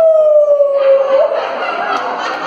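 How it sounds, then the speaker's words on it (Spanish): Single loud, close wolf howl held steady for about a second, then breaking into a noisier, rougher trailing cry, used as a sound effect in a told story. "Los perros alteraron a los lobos y los lobos se oían."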